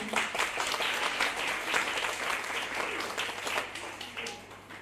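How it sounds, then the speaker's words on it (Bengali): Audience applause fills a performing arts show at Omkar, a dense, steady roar of many hands clapping together that holds strong throughout and eases only slightly toward the end. "আপনাদের নিজেদের জন্য আর ওদের সকলের জন্য একটা জোরে হাততালি দিন"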